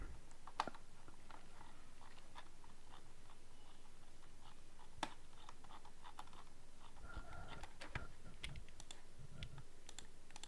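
Typing on a computer keyboard at a streamer's desk: a sparse, irregular run of light key clicks with a few sharper taps, moderately quiet and close, with no talking.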